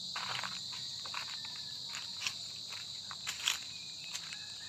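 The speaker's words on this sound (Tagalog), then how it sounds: "Maririnig nyo ay yung mga parang kuliglig." Crickets chirp steadily in a high, continuous trill, with faint rustles and soft steps underneath in a quiet outdoor setting.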